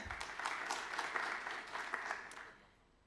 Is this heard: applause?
yes